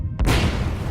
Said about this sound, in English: Just 3 minutes later, the reboiler violently ruptured.